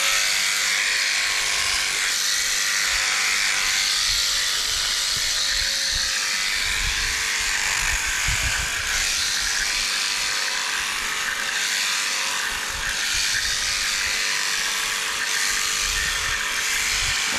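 An electric shearing machine clipping wool from a sheep, a continuous close buzzing whir that stays steady and loud throughout, with low thumps of handling underneath.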